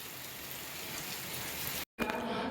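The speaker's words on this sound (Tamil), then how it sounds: "இங்கே மழை பெய்யுது." Steady rain falls with a dense, even hiss and patter, briefly cut off by a short gap before continuing with a busier texture.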